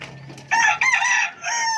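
A chicken gives a few loud, close squawking clucks in quick bursts near a nesting spot in a chicken coop, with brief gaps between them and no talking.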